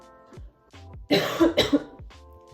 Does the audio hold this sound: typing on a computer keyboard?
no